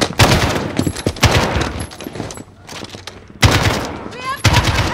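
Bursts of automatic gunfire in a Modern Warfare campaign ambush, dense rapid volleys with short pauses between them, loud and close, with a few voices in the mix.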